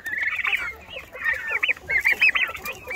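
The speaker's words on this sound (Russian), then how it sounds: "Немножко расскажу о бройлерных индюках в этом видео" Broiler turkeys call in short bursts of high gobbling chatter, several close birds repeating in quick clustered runs over a low steady hum.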